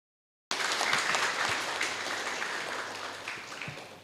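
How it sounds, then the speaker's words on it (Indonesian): Applause from an audience at an anti-drug community event in Indonesia, starting abruptly after a brief silence and continuing as steady, moderately loud clapping that slowly thins toward the end. "Tepuk tangan dulu Mas."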